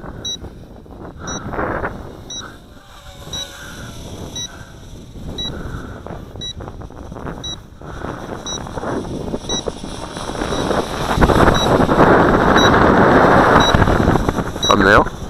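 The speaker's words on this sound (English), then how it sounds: "Whoa, that wind's picking up." Wind gusting around a Juncheng 3015-2 toy quadcopter drone during an outdoor test flight, a rough blustery roar buffeting the microphone that strengthens toward the end, with periodic faint beeps and someone talking over it.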